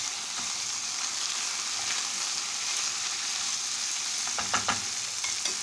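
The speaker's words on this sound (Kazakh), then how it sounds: "Және жақсылап араластырып" Chicken stomach sizzling and frying in a pan while being stirred, a steady quiet crackle with a few sharper scraping clicks of the utensil near the end, no talking.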